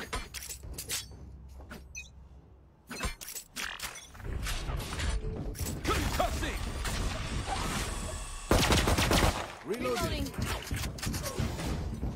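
Gun reloading in a video game, with mechanical clicks and rattles followed by dense bursts of gunfire, heard under game sounds and voices.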